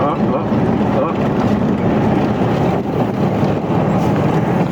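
Loud, steady wind roar from a DIY scrap-built wind turbine held out a car window on a motorway, a constant broadband rush filling the whole clip.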